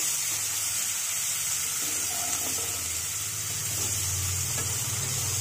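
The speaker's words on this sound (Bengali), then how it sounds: "কুচানো পেঁয়াজটা দিয়ে ভালো করে একটু নেড়ে চেড়ে নেব" Chopped onion frying in a pan for a Bengali fish curry with cauliflower, giving a steady soft sizzle with faint stirring scrapes, a low hum underneath and no talk.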